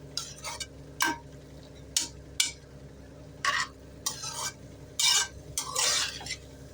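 Broad beans (avarakkai) are sautéed in a pan, with scraping spatula strokes and short stirring bursts over a faint steady sizzle, close and uneven in timing.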